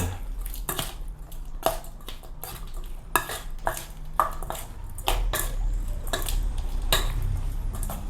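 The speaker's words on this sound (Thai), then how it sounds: "แล้วก็ใส่ มะนาว ผมใส่สีเดียวนะครับ ไผ่มากเปรี้ยวกับใส่หลายนะครับผม แล้วก็คน" Stirring lime juice into an Isan sweet liver dish, with steady spoon clinks and scrapes against the bowl and wet squishing, close and fairly loud, repeated throughout.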